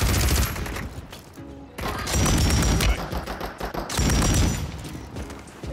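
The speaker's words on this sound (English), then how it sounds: "Are you guys shooting at us with a pistol?" Video game gunfire in a Call of Duty style match: dense bursts of repeated gunshots and fusillade, loud and continuous with brief lulls between volleys, no voices.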